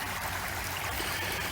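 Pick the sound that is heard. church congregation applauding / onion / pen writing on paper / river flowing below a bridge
river flowing below a bridge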